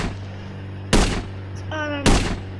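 Two sharp gunshots ring out about a second apart from a sniper rifle firing at zombies in the mobile game Indian Bikes Driving 3D, with a brief electronic tone sounding between them over a low game hum.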